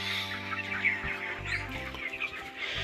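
Chickens on a poultry farm cluck softly and intermittently nearby, several overlapping calls scattered over a low background hum.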